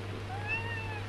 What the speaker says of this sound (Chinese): 你看人家送我一个小猫哎。